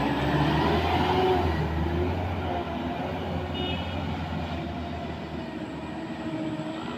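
A Mitsubishi Canter or Fuso truck labors up the steep Kedabuhan incline, its engine droning loudly and steadily under heavy load, a close, continuous low rumble with no talk.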